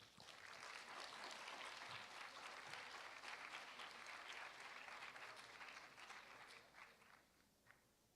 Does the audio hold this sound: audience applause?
yes